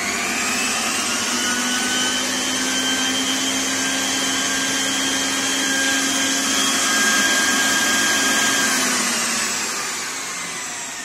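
A homemade central vacuum cleaner runs alone with a steady, loud motor whine and a broad airflow hiss, holding constant throughout before easing slightly near the end.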